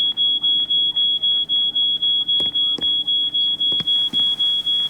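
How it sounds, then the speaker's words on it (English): An alarm in the She Could Fly escape game sounds as a steady high-pitched electronic beeping, about three pulses per second, loud and continuous, with a few sharp clicks and knocks over it. "Okay, can we just switch off that alarm?"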